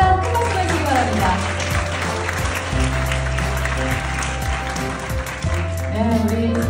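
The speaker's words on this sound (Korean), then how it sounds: "큰 박수 보내주시기 바랍니다" An audience at the Cyber Guardians Conference 2024 award ceremony applauds a high school team receiving an excellence award. The clapping is steady and sustained, with background music and a voice speaking underneath.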